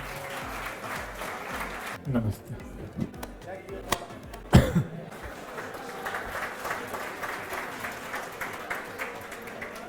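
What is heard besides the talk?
audience applause for top-ranked student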